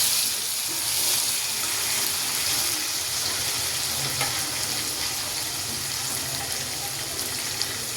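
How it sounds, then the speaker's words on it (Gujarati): Green chillies and tomato cook in a pan for cabbage shaak, giving a steady, even sizzle with a faint watery hiss that holds throughout, close by and with no talking. "આપણે લીલા મરચાં જે સમાર્યા છે અને ટામેટું એ એડ કરીશું અને થોડું ચડવા દઈશું।"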